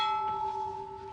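A rope-pulled doorbell at a quirky house tour rings once with a clear, sustained bell tone, its strong steady pitch and overtones ringing evenly and fading only slightly across the short moment.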